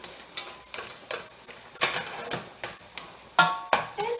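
Ground beef browns in a pan for homemade beef vegetable soup, a steady sizzle punctuated by about a dozen sharp scraping stirs at a fairly regular pace, close and alone with no voices.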